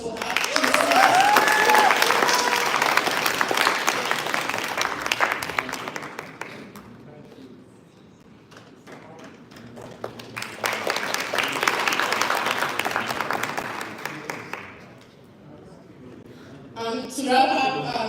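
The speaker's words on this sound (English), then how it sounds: "Shinam Jain, a round of applause for her." Conference audience applauding during an awards ceremony, a sustained round of clapping that swells, eases off with talk between, then rises again before a second lull and a brief closing burst.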